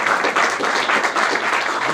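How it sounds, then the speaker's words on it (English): Audience applause at a Penn State Bellisario College of Communication Football Fridays event, a steady dense wash of many hands clapping for two seconds without a break. "My co-director, Steve Ross, was back there clapping away for Bellisario"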